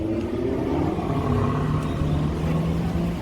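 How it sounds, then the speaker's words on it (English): A Jaguar XKR's exhaust gives a steady, loud, low rumble on a Beverly Hills street, with no talk over it. "The exhaust note on that thing is amazing."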